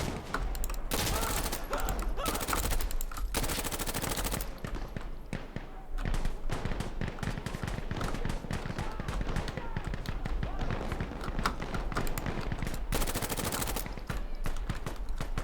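Dense gunfire in Insurgency Sandstorm, a game rifle firing in long sustained bursts with sharp cracks and brief pauses, loud and close throughout, with reload clatter between volleys.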